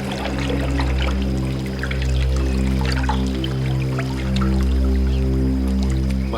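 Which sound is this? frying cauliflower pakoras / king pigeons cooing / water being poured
water being poured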